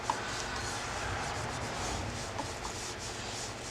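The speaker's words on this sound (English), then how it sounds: "Now it's time to hit our sanding paste." Walnut bowl being sanded with a homemade sanding paste, a continuous soft rubbing hiss at low, even volume with faint ticks, no voices.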